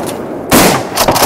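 Two shotgun blasts boom out on a duck hunt, one at about half a second and a second, slightly softer report near the end, each with a broad, loud burst that decays into outdoor ambience.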